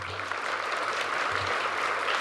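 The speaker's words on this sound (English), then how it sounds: "Let's give them a round of applause." Audience applause for graduating musicians at a Craft Academy graduation ceremony, a steady dense wash of clapping sustained loudly throughout with no voices.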